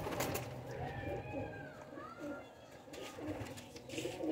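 Pigeons cooing softly nearby, low throaty calls over a murky background with faint rustling and distant chatter.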